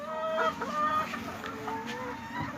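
Hens cluck softly in short, irregular bursts, close by while brooding eggs, with a low murmur of farmyard background beneath.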